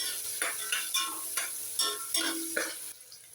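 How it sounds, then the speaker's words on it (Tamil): Onion for usili upma stirred as it fries in a pan: a soft sizzle broken by about eight rhythmic scrapes of a spoon, close and alone. "இதை ஒரு தடவை நல்லா ஸ்டிரர் பண்ணிக்கோங்க."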